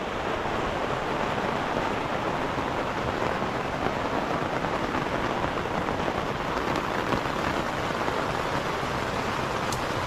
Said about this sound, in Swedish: Det regnar.